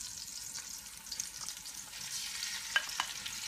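Chicken pieces fry in a pot for paella while being stirred until browned, making a soft, steady sizzle with faint scrapes and light clicks from the spoon.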